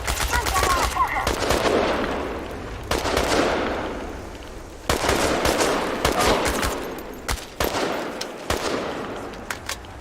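Gunfire in the video game Chernobylite: bursts of automatic shots crack out loud and close, separated by short pauses, with echoing tails between volleys.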